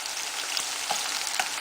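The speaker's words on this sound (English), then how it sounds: "You see the onions have started becoming caramelized" Onions fry in a pan toward caramelization, a dense, steady sizzle with a few soft crackles and stirring taps, close and fairly loud with no talking.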